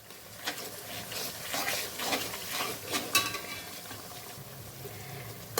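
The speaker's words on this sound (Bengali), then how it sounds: "এখানে আমি সামান্য লাল লঙ্কার গুঁড়ো আর জিরে দিচ্ছি, আর কালারের জন্য কাশ্মীরি লঙ্কা দিচ্ছি। দিয়ে বেশ ভালো করে কষিয়ে নেব মশলাটা।" Masala of red chili powder, Kashmiri chili and cumin frying in a pan for chicken chaap, a quiet steady sizzle with repeated scraping strokes of stirring.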